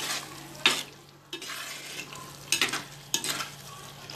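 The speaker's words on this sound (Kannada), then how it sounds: "ಇನ್ನೊಂದು 2 ನಿಮಿಷ ಫ್ರೈ ಮಾಡ್ಕೊಳ್ಳೋಣ." Fish curry masala for an Andhra-style fish stew fries in oil in a pan, with a steady low sizzle and several sharp scraping stirs, fairly close and heard alone.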